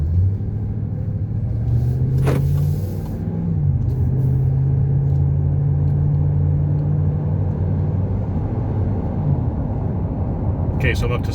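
A truck speeding up to merge onto a highway, its engine rumbling steadily with a rising then held tone, heard from inside the cab with road noise and brief clicks.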